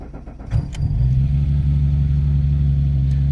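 A BMW E30 Touring with a swapped S38 engine starts up: a brief cranking whine, then the engine catches and settles into a loud, deep, steady idle, close and alone.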